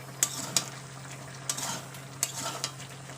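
Taro and potato being stir-fried for a fish curry, with a few scattered spoon scrapes and light clinks against the pan over a quiet background hum, close and fairly soft.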